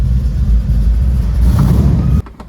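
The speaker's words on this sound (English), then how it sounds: "Sounds like small four-cylinder." A small four-cylinder car engine running nearby, a loud steady low rumble that cuts off abruptly near the end.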